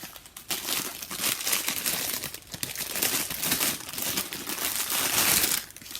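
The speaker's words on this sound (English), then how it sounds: "Should I unwrap this?" A custom-dyed yarn package is unwrapped with loud, close crinkling and crumpling of plastic wrapping, continuous rustles and tears rising and falling for several seconds with no talk over it.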